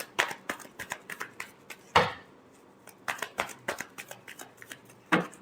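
A deck of tarot cards is shuffled up close, giving rapid papery riffles and slaps in uneven bursts, one louder bridge-like flutter near the middle, with no talking over it.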